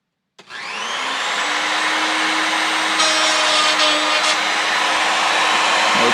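A machine spindle is switched on and spins up within the first half second, then settles into a loud, steady high-pitched whine. A brief rise in cutting noise follows as it works the material.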